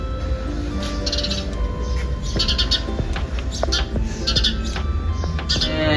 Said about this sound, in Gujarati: આપણે ચકલી બેન બોલે છે બહુ મસ્ત.